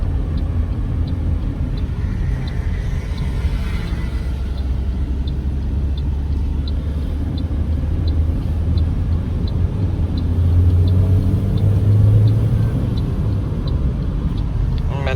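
Busy traffic circling Liberty roundabout in Lahore, Pakistan, a dense continuous rumble of car and bus engines with a swell of nearby vehicle noise near the end, heard from inside a passing car.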